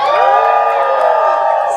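Live lumberjack show audience cheering and whooping for the competitor Chet, a loud, sustained crowd roar with scattered yells carrying steadily throughout.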